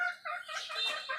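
Native desi hens and roosters clucking up close, a run of short bright clucks and calls lasting just over a second, with no talk over them.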